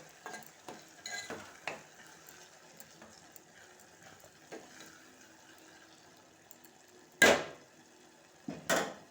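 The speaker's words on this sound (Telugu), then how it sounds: "ఇలా టోటల్గా కలిపేసుకోవాలి" Curry with chilli powder stirred around in a pan. Quiet, intermittent scraping and clinking of a spoon comes close up, with a couple of louder scrapes near the end.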